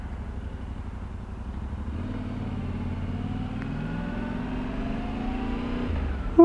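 A Yamaha Tenere 700 motorcycle rides slowly, its engine a steady low rumble with gentle rising revs throughout, fairly close, with no talking.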